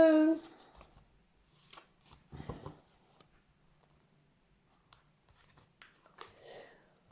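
Tarot cards being shuffled and handled, producing a few soft, brief rustles and papery slaps with quiet gaps between them, plus a short voice at the start.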